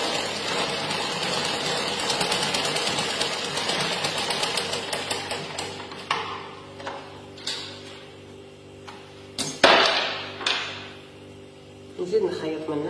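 A sewing machine stitches a child's dress in a fast, close, rhythmic whir for about six seconds, then stops, followed by intermittent clicks, fabric rustles and short bursts of handling noise.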